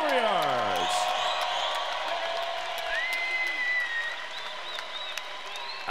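A ringside crowd applauds two bare-knuckle fighters at a BKFC event, a broad steady wash of clapping and cheering filling the hall, with bright tonal sounds cutting through and no clear talk over it.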